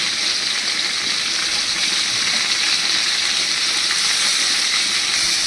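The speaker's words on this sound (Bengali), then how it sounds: "সয়াবিনের জলগুলো মানে পুরোটা ভাজা ভাজা হয়ে যাচ্ছে" Soybean chunks frying in a hot pan as their water cooks off, a steady, loud, close sizzle with bubbling hiss that holds unbroken throughout.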